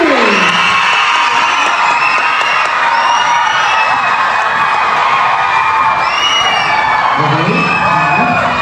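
Loud, continuous cheering, whoops and shouting from an excited audience at a lighthearted dance contest rise up for a contestant, a dense crowd roar with high shrieks and some talk mixed in throughout.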